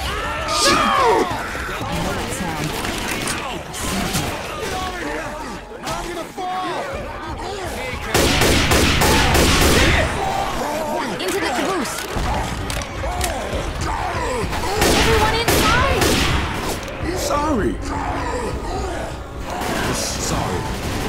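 Dense, chaotic gunfire and crashing combat in the zombie shooter Left 4 Dead 2 during a Tank attack, loud and continuous with repeated shot bursts, mixed with frantic shouting from players.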